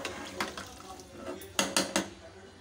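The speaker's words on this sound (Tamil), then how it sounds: "இப்போ இது எல்லாத்தையும் சேர்த்துட்டு நம்ம நல்லா கலந்துக்கலாம்." A spoon scrapes and clanks against a metal pot while grated coconut and other ingredients are stirred together, with a few sharp knocks near the end and light wet mixing sounds throughout.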